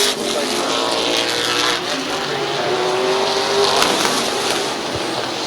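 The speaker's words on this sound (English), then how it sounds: "5 laps yet to go here around Midvale Speedway" Race cars roar around Midvale Speedway late in a race, a steady loud engine drone with a passing whine rising and fading, a busy crowded track sound throughout.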